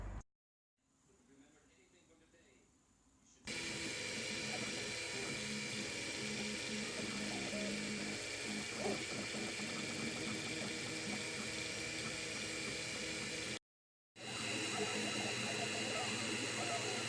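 Anet 3D printer running a print job, a steady mechanical whir and faint stepper-motor hum holding evenly for most of the stretch, with a short quiet gap before it resumes.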